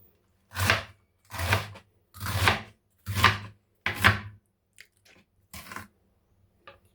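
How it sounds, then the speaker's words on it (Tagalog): Cabbage being chopped with a knife on a board for dumpling filling: five firm, crunchy cuts in an even rhythm, then a few lighter taps, close and clear with no talking. "natapos na natin yung ating paghiwa sa repolyo"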